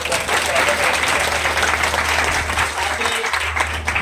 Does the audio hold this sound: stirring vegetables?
no